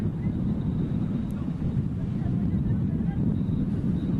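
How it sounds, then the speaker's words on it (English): Strong wind buffets the microphone at an outdoor polo match in Pilar, a steady low rumbling roar that fills the whole stretch without a break. "Under a lot of wind now in Pilar."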